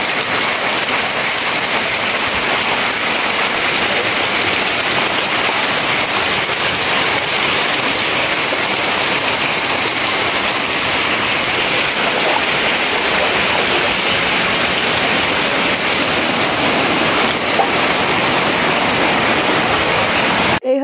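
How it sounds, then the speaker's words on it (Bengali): Floodwater from heavy all-night rain pouring out under a house door, a loud steady rushing wash with no let-up for the whole stretch. "ওই জলটাই আবার দরজার নিচ দিয়ে এরকম ভাবে বের হচ্ছে"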